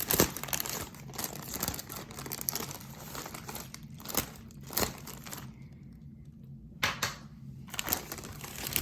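Plastic wrapper of a large sports card pack crinkles and rustles up close while being cut open, with scattered sharp snips and crackles and a brief quiet gap.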